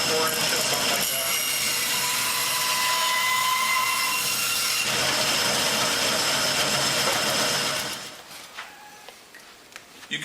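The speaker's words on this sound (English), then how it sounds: "You can do this with a chainsaw." A loud, steady chainsaw whine cutting a wood slab for about eight seconds, then it cuts out, leaving quieter clicks and handling noises.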